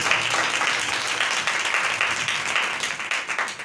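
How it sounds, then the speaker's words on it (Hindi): A church congregation at a New Year night service breaks into dense, sustained applause, a loud steady wash of many hands clapping with no clear speech on top. "जोरदार तालियां बजाने के लिए।"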